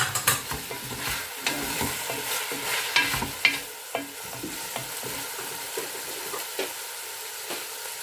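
Lemongrass is stir-fried with chicken in a pan for sinampalukang manok, with a steady sizzle broken by repeated scraping and clacking strokes of a spatula, close and fairly loud. No speech.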